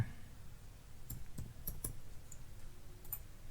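Keystrokes on a computer keyboard as a folder name is typed, a few scattered clicks and taps at close range, fairly quiet, with no talking.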